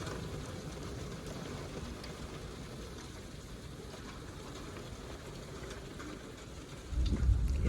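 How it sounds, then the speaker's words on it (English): Rain falls outdoors in a soft, steady patter heard from indoors, with a low deep rumble swelling near the end. "and watch and count the raindrops"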